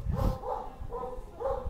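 Dogs bark in a mountain setting, with three or four separate bursts of loud barking spaced across the moment and no voices between them.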